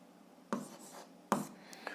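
Pen strokes on paper while an algebra solution is written out, two firm scratchy bursts about a second apart with lighter scribbling between them, close and quiet with no talking.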